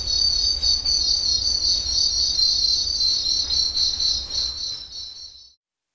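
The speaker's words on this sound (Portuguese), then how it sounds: "E nasceram os grilos europeus." European crickets chirp in a dense, steady high trill that carries on unbroken for several seconds before stopping abruptly, loud and close with no voices.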